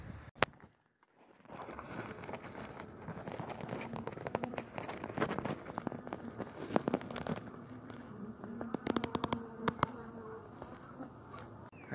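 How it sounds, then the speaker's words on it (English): A fresh honeybee swarm being pulled out of a chimney in Sunbury hums with a dense, close buzzing that is fairly quiet overall. It continues throughout, with scattered crackles and rustling from the removal work. "where we're pulling a fresh swarm out of this chimney"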